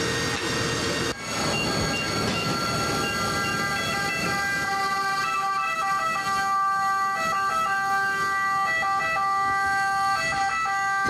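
Fire engine sirens arriving at a warehouse fire at an upholstery and curtain building, several wailing, overlapping siren tones with a continuous rushing roar beneath them, loud and close throughout.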